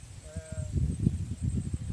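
A single goat bleat, short and wavering, sounds near and fairly faint before low, muffled rustling and background noise take over.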